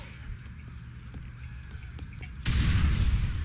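Explosion in Grand Theft Auto 4 amid Liberty City traffic, a sudden loud boom with a rumbling roar that cuts in after quieter street noise and light clatter.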